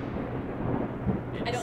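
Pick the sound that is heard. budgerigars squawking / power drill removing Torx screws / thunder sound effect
thunder sound effect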